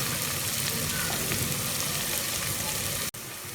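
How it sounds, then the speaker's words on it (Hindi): Ginger and garlic fry in a pan for haleem, giving a steady, dense sizzle and crackle up close that cuts out briefly near the end. "थोड़ा सा भून लेते हैं अदरक लहसुन को"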